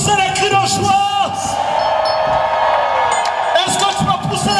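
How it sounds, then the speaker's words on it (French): Worshippers at a church revival service cheer and shout for joy, a loud sustained wall of crowd voices with whoops and cries, a single voice standing out near the start. "Est-ce que tu peux pousser les cris de joie?"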